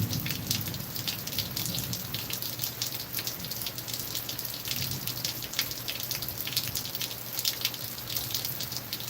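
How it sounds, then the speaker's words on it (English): Steady rain falls outdoors during fishing, a dense, constant patter of drops on surfaces close by with no voices. "Haven't fished in rain like this before"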